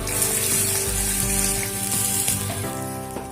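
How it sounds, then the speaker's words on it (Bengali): Gravy for a pointed gourd dish bubbles and sizzles loudly in a pot after water is added, a dense steady hissing boil with faint clinks, no voices. "গ্রেভিটা খুব ভালোভাবে ফুটে উঠতে শুরু করেছে"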